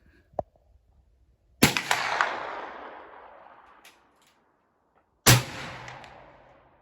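Two sharp airgun shots crack out about four seconds apart, each leaving a long, decaying wash of ringing noise, fired from a rifle whose barrel is being fire lapped outdoors on a calm day, with a faint click just before the first.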